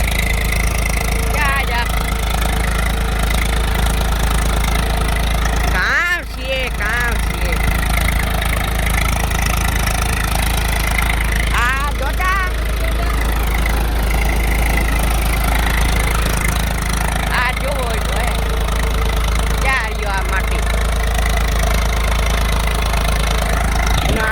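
A tractor engine idles with a loud, steady low rumble throughout, while people talk over it now and then.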